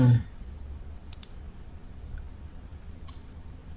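Computer mouse clicking the OK button in a slideshow animation-effects dialog: a couple of faint, sharp ticks a moment apart, then another soft click near the end over a low steady hum.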